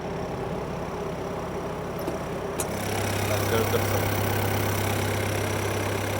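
A Hyundai excavator's engine idles smoothly and steadily at close range, its low, even hum growing fuller partway through; a voice speaks briefly at the start.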